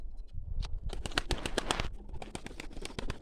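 Several birds coo and call over a steady low rumble, with brief clattering bursts scattered throughout; no voices.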